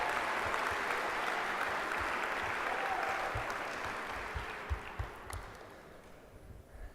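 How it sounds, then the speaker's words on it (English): Audience applause at a college all-sports gala, a broad steady wash of clapping that gradually thins and fades, with a few louder individual claps near the end. "So you can just give them a round of applause for leadership going forward."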